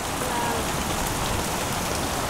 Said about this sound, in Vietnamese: Mưa to quá.